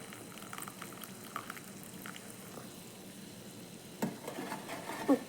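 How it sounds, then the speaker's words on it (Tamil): Tamarind rasam with field bean seeds simmering in a pot, a soft, quiet bubbling and faint sizzle with scattered pops and a couple of sharper clinks near the end. "நல்லா புளி கொதித்து வரட்டும்."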